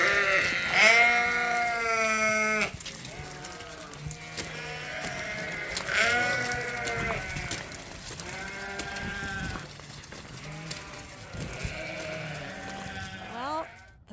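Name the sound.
sheep bleating in pens, Dorset crosses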